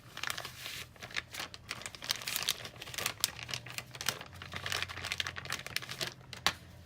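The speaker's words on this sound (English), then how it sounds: "I'm just going to use a wet wipe." A wet wipe pulled from its packet and rubbed over a stamped card to clean off blue ink, making steady close crinkling and scrunching with soft rustles throughout.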